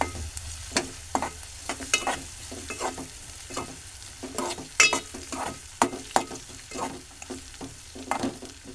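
Onion for ukad is stirred in a frying pan, with repeated close scraping strokes at an irregular pace over a faint sizzle.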